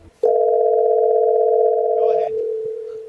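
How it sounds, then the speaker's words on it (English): Phone line tone while a call rings and waits for an answer, a steady, loud two-tone hum running about two seconds before cutting off, with voices talking around it. "How can it ring this many times without going to voicemail?"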